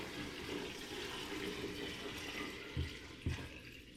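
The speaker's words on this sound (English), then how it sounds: "I'm gonna take the sugar water that we created and I'm gonna pour it into our fermentation bucket" Sugar water being poured into a fermentation bucket for homemade fruit wine, a steady liquid splashing and trickling that carries on throughout, with two short heavier gurgling splashes near the end.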